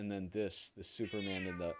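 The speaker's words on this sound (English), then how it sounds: "That's my cat" A pet cat meows loudly and repeatedly at close range, long drawn-out cries running through most of the moment while someone speaks briefly in between.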